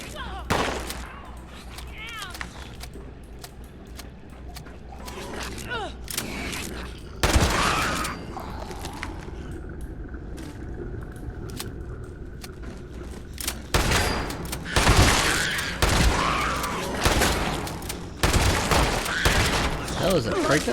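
Rapid gunfire bursts from shooting at a mole rat in the video game Fallout 76: Steel Dawn, several loud volleys broken by pauses, with game ambience and talk throughout.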